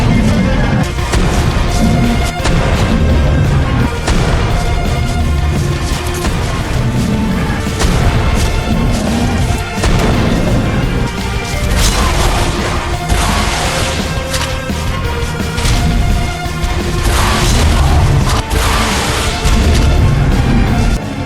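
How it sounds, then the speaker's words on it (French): Heavy cannonball booms and crashing impacts pound continuously in Ark: Survival Evolved, loud and dense, hammering a creature with barely a pause. "il me reste plus qu'à l'assommer avec des boules de canon."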